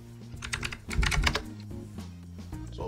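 Keys clack steadily as a password is typed on a computer keyboard, a quick run of close, fairly loud keystrokes with a denser burst in the middle and no speech.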